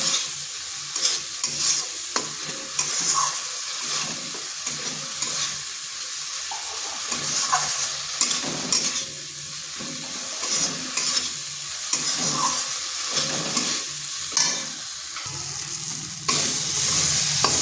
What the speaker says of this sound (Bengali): ডালের সাথে ভালো করে কষিয়ে নিচ্ছি।